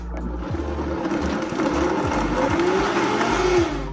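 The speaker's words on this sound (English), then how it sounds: "It's just time to blend it up now" A countertop blender whirs through a thick oil-free sauce made with garlic and onion powder, a loud steady motor drone with a rising pitch and churning, rhythmic low thumps, close and continuous.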